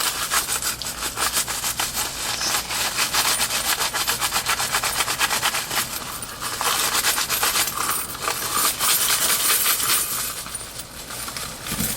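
An iPhone 5C being rubbed hard in a scratch test, producing a continuous close gritty scraping that runs throughout with slight surges and no talking.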